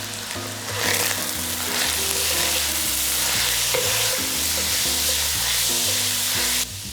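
Meat browns in a pan for ragù alla bolognese, giving a loud, steady sizzle with frying crackle and occasional stirring scrapes, heard alone with no talk.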